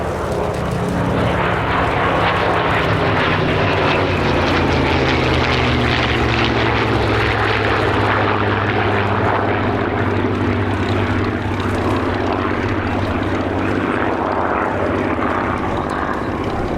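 The Flying Bulls' P-38 Lightning, a twin-engine piston warbird, passes at the Sywell Airshow with a loud, sustained propeller drone. The engine pitch glides slowly downward as the aircraft sweeps by.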